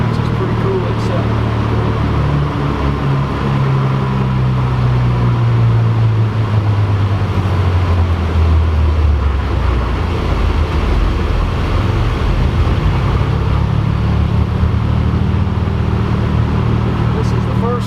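A 2020 Can-Am Maverick Max Limited UTV with air conditioning drives at a steady pace, its engine drone rising and falling continuously beneath people talking inside the cab.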